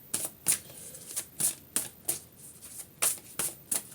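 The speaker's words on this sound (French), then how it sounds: "je vais aller chercher les cartes, les piger, plutôt que de les laisser tomber" A deck of tarot cards is shuffled and cards are drawn, making a rapid series of sharp, close riffling snaps in an uneven rhythm, with no voices.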